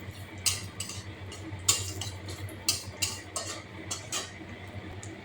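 Bay leaf and cumin tempering in a pan for a green-banana vegetarian curry, stirred with a metal utensil that scrapes and clinks in irregular taps over a faint steady sizzle, close by with no voices.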